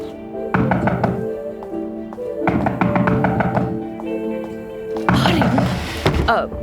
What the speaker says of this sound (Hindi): दरवाजा बज रहा है, मैं जाकर देखती हूँ।